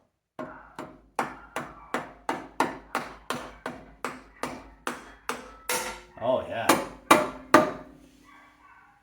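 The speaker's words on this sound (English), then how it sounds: "A nice rubber mallet from Princess Auto." A rubber mallet pounds on Volkswagen Beetle engine parts during an install into a bus, about fifteen sharp, evenly spaced blows, close and loud, with a brief spoken remark near the end.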